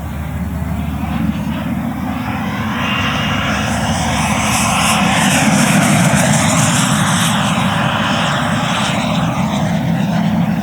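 A JETFAN-110 Black Horse Viper RC electric ducted-fan jet with a 3kW motor flying at full speed, a loud sustained whine and roar that swells and shifts in pitch as it passes, with no talk.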